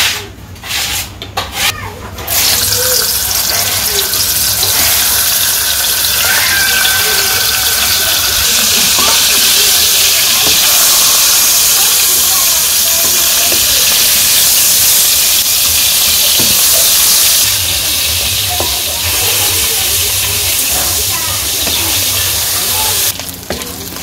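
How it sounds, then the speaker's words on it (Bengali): Hilsa fish heads rubbed with salt, turmeric and chili fry in oil in a wok, giving a loud, steady sizzle and hiss that runs the whole time, with a few clattering knocks at the start. "এখন এই যে মাছের মাথা ভেজে নিবো"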